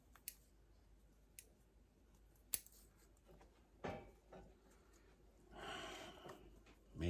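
Pruning shears make a few sparse, faint snips on a Sizzlin' Pink fringe flower shrub, followed by quiet rustling of branches and leaves and a breathy sound near the end.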